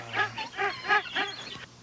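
A goose honks four times in a steady rhythm, loud and close, each call a nasal, reedy blare.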